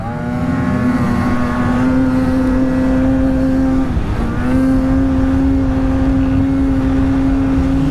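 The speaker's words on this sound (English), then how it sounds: "racing the 650 Matrix versus the 850 Renegade XRS" A 2022 Ski-Doo Renegade XRS 850 and a Ski-Doo 650 Matrix snowmobile racing side by side, their engines droning loud and close at a steady high pitch, with one brief dip in revs before the whine climbs again.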